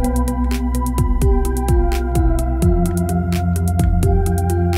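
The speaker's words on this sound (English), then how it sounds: "There are kick, clap, and snare, just three instrument of a drum." Electronic drums of kick, clap and snare laid over Balinese gamelan-style music for an epic orchestral track: regular sharp hits punching through sustained metallic tones, loud and continuous with no voices.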